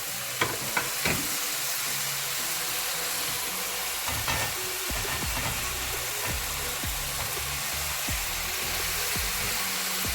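Onions dropped into a pan for Italian-style pasta, frying with a constant bright sizzle while a spoon clacks and scrapes in irregular stirs, close up, no talking.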